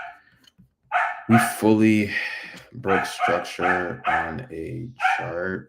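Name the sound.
dog barking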